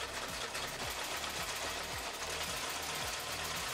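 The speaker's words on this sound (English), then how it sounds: "I flip the top of the bag in by 1 inch and stitch all the way around the opening" A sewing machine runs steadily as it stitches around the folded one-inch hem at the opening of a vinyl tote bag, a continuous close mechanical whir with a fast repeating needle rhythm and no talk.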